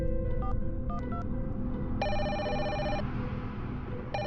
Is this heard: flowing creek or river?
no